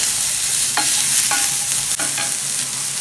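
Plenty of onions sautéing in a pan for a bitter gourd and egg poriyal, giving a loud, steady close-up sizzle with a few sharp scraping stirs, no voices.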